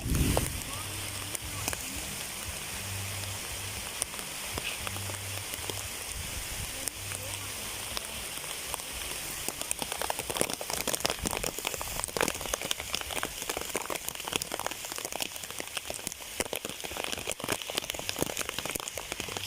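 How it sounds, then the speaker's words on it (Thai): Rain falling steadily outdoors, a dense, even patter that thickens partway through, with faint speech and some low rumble early on. "นี่ พี่น้องฝนตกแล้ว"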